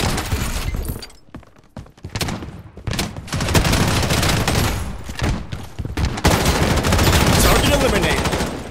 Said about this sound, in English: Defensive turret activated.